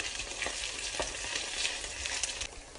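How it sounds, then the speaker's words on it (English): Ginger and tomatoes sautéing in a pan for keema aloo, a bright continuous sizzle up close with light stirring scrapes, no voices. "to this I'm going to add the tomatoes, sauté this through"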